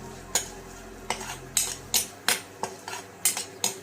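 Spices in a turmeric tempering being stirred in a pan for cabbage bhaji, a spoon clinking sharply against the metal in repeated strokes under a faint sizzle.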